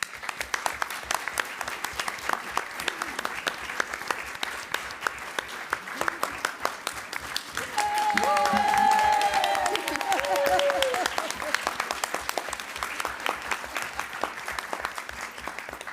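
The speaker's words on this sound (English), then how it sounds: "this applause is, of course, also for you" Audience applause at an annual general meeting, a steady crowd clapping that swells in the middle and then continues more thinly, with a voice speaking over part of it.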